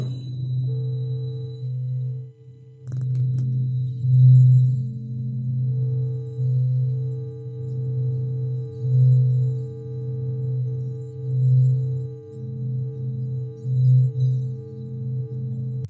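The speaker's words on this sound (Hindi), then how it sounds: "अगर हम सबसे पहले अपने सोलर सिस्टम के सेंटर यानी कि सूरज की बात करें तो सूरज की आवाज़ कुछ ऐसी है" Sonified recording of the Sun: a low, steady droning hum with slow swelling pulses and faint higher tones, continuous and eerie without any voice.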